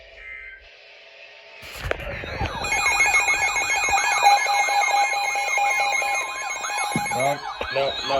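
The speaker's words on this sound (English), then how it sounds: "Calm down on the sirens." Emergency Alert System warning tones for a severe weather event with tornado threat blare loudly and continuously after a brief lead-in, layered warbling electronic alarm pitches, with a short spoken word near the start.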